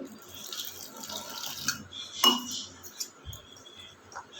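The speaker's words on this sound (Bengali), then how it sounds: "এবার আমি এর মধ্যে পরিমাণ মতন জল দিচ্ছি" Water is poured into a gram-flour batter with black cumin seeds for fried pointed gourd, a soft trickle with light clinks of a utensil against the bowl, close and quiet.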